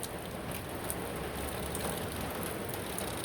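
Rain from Hurricane Ian pours down in Homosassa with a steady, dense hiss of drops on surfaces. The sound stays broad and unbroken throughout.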